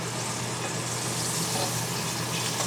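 Food frying in a carbon steel pan, a dense and steady loud sizzle with no break, close up and alone.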